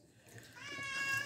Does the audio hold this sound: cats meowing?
yes